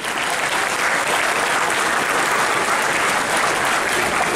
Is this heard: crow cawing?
no